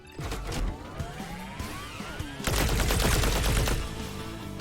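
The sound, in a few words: gunfire in Battle Shapers video game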